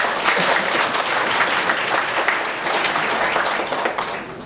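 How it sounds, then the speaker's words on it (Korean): Wedding guests applauding at a ceremony, a dense, steady wash of many hands clapping together, loud and sustained throughout with no talk over it. "뜨거운 박수를"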